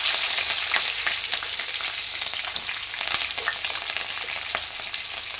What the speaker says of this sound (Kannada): ಈ ಕಾದಿರುವ ಎಣ್ಣೆಗೆ ಹಸಿಮೆಣಸಿನ್ಕಾಯಿ,